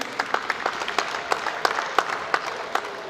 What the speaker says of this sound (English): A round of applause for our winners,